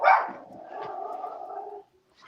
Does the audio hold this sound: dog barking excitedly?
yes